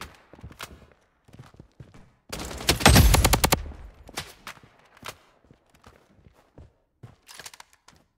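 Gunfire in the shooter Blood Strike: a dense, loud burst of rapid automatic shots in the middle, framed by scattered single shots and quick footsteps before and after.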